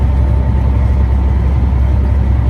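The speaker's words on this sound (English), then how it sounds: "Truck kind of creeping in on me over here." A heavy truck engine rumbles steadily close by as it passes, a deep constant drone with a faint whine on top and no pauses.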